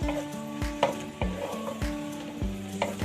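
Onions frying in a pan for a green bean and egg curry, a steady sizzle broken by regular knocking stirs of a utensil against the pan, close and clear.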